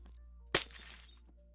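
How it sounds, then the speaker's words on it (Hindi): A single sharp crack of glass shattering in the game Minecraft, a sudden loud burst that tails off into brief tinkling debris, heard alone over a quiet low hum. "भाई कांच टूटने पर भी आवाज आता है।"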